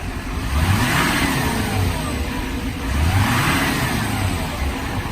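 The engine of a 2009 GMC 5500 4x4 bucket truck revs outdoors, a loud, close rumble that swells twice in smooth, even surges without talk.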